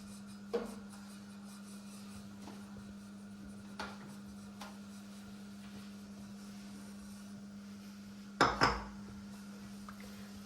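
A spoon scrapes and knocks in a pot as wheat flour is stirred into Punjabi-style sarson ka saag, giving a few sparse clanks, with a louder double clatter near the end, over a steady low hum.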